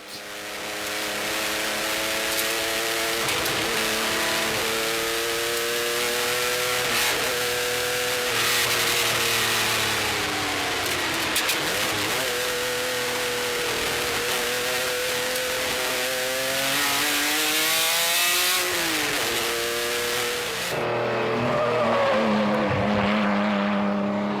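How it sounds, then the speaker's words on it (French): A 1955 Maserati A6 CGS race car, driven by a German crew on a rally stage, roars loudly and steadily from on board, its engine note climbing and falling through repeated gear changes and revs with a brief lift near the end. "Nous sommes à bord de la Maserati A6 CGS 55 de l'équipage allemand von Schenk Rimbock."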